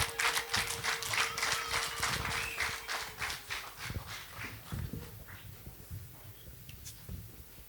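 An audience at a gathering claps in a strong rhythmic burst that gradually thins and fades, with a few scattered claps at the end.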